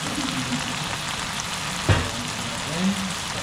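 A tuna dish in magic sauce simmers in a pan, giving a steady, close sizzle and bubbling with one brief knock from a utensil partway through.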